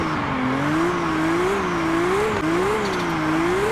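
Car drifting in the mobile racing game Car Parking Multiplayer 2, with a steady loud engine drone whose pitch rises and dips in waves as the throttle is worked and let off, with no talk.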